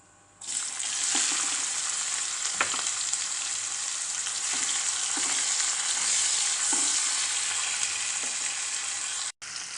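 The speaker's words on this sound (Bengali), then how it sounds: "পেঁয়াজ সহ এটাকে গোল্ডেন করে একটু ভাজতে হবে" Chopped onion fries in hot oil with cumin and whole garam masala, a loud, continuous close-up hiss of sizzling that starts abruptly and runs steadily, with a few soft stirring knocks and no talking.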